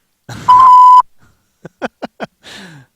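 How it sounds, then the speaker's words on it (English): A voicemail system sounds one clean electronic beep, loud and held for about half a second. A few short clipped voice fragments follow. "Please leave a message after the beep."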